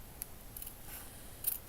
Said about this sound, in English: cut straight up from there. And cut.